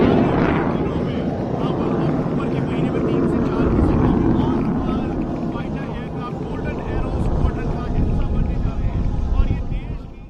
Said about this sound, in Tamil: போர் விமானம் ஒன்று தீப்பொறி தெறிக்க பட்டொளி வீசி பறந்தது